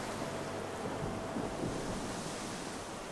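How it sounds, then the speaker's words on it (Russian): Raging sea waves crash and roll continuously in the video game Chronos: Before the Ashes, a dense, steady roar of surf with wind noise running at even loudness throughout, no voices present. "Сзади мы видим, бушует море."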